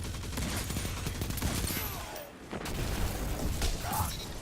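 The Huckleberry exotic SMG fires loud, rapid bursts in Destiny 2 during a multiplayer zone-capture match, with sustained automatic fire and a short pause midway.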